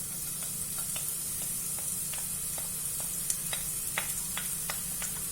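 Onion fries in oil in a stockpot, giving a faint, steady sizzle with scattered soft crackles and pops, close and alone.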